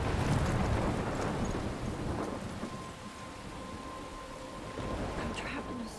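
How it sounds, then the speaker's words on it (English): A thunderstorm with rain in the video game Life Is Strange Remastered: heavy, dense rainfall and a deep, low thunder rumble that swells and fades, loud and close throughout. "I'm trapped in a storm?"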